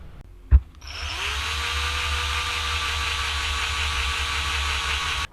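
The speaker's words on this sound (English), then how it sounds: "let's drill a hole." After a sharp click, a power drill spins up and drills a hole while installing a motorcycle lap timer, running steadily with a high whine for several seconds, then stops abruptly.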